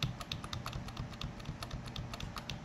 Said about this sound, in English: I'm going to start clicking on the delete key